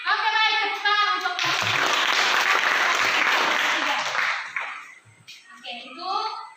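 A classroom group finishes its presentation and the room breaks into loud applause that lasts several seconds, with voices before and after it.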